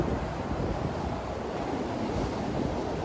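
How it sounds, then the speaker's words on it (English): Ocean waves breaking on a beach under a high surf, a continuous broadband roar with wind buffeting the microphone, steady and loud with no pauses. "Waves are kind of high this morning."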